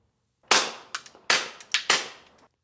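Four suppressed rimfire shots through a GEMTECH Outback 2 suppressor crack out in quick succession, each a sharp, fairly loud report with a short decaying tail, with no talking.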